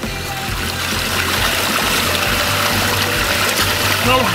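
Spring water flowing at Lhok Mata Ie beach in Aceh makes a steady trickling and rushing wash, loud and close, with a person talking throughout.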